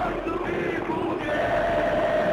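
A crowd roaring steadily in a stadium during a PS2 Bomba Patch football match between Tottenham and Manchester City, a continuous dense murmur with faint chant-like tones throughout and no clear individual voices.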